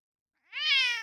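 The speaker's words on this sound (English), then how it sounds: "Boss, meow into the mic." A cat meowing into a microphone: one loud, drawn-out, close meow that starts after a brief silence and fades at the end.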